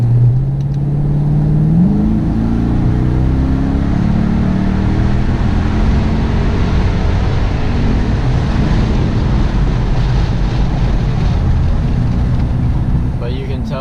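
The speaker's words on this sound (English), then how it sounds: "once you get up to speed, like you mostly just hear kind of the wind" Steady, loud roar of wind rushing past a 5.7L Toyota Tundra with a Flowmaster Super 44 exhaust at interstate speed, with a low engine drone underneath and no pauses throughout.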